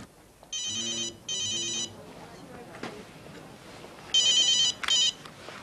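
Telephone ringing in a home drama scene: two long electronic trills, a pause, then two more, clear and fairly close against a quiet room.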